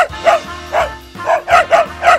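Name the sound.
dog barking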